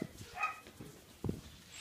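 A group of puppies gives faint, scattered yips and small whimpers, a few brief bursts spread out at a distance with quiet gaps between them.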